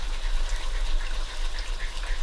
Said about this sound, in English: And then add some more water.